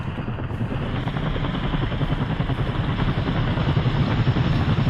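Enemy helicopter in a military combat video game, a continuous loud thudding rotor drone with steady engine noise, close and unbroken throughout.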